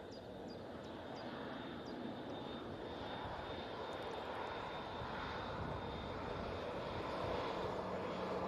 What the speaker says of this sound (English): It's an A320neo coming in from Copenhagen.